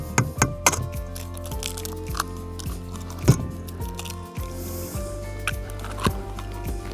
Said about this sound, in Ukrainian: Далі додаємо до нашої картопляної маси два яйця.